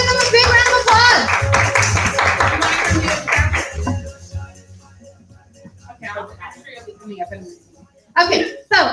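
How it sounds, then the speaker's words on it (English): Audience applause at a unit meeting: after a stretch of talking, a few short bursts of clapping break out, the last loud and close, with scattered voices between. "Let's give them a big round of applause."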